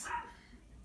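A dog barks once while play-wrestling with a man, a short loud yelp followed by quieter scuffling sounds at close range.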